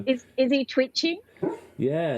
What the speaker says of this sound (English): my dog seems to be having a bad dream in the background.